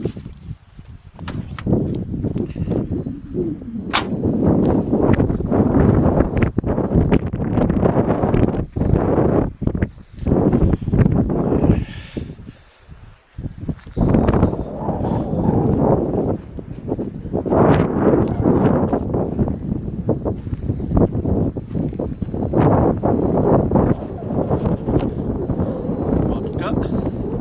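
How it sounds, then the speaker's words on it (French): Strong outdoor wind buffets the microphone in loud, continuous gusts with brief lulls, a blustery roar dominating throughout. "Il y a un vent."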